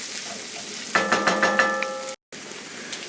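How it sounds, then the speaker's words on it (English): Tomato paste and flour sizzle as they are stirred into a browned beef mixture for shepherd's pie, a steady crackling fry with scraping stir strokes, close and loud, cut off briefly near the end. "cooking that tomato paste and flour and stirring it into your beef mixture"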